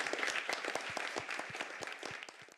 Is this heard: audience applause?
yes